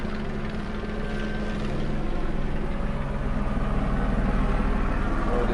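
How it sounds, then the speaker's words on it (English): A helicopter passes overhead with a deep, throbbing rotor rumble that grows steadily louder and fuller, sounding alone without speech. "Sorry about the helicopter."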